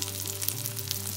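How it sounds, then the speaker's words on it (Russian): Fritters sizzle and crackle steadily in a hot frying pan, a close, continuous frying hiss with no voices. "Начинаю слегка так поджаривать эти оладушки, чтобы они приобретали вкус жареных оладьев."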